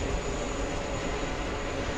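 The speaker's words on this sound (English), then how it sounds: "Plane that sounds like a train." An airplane gives off a loud, close, continuous broadband roar with a heavy low rumble that resembles a passing train, holding level for the whole moment.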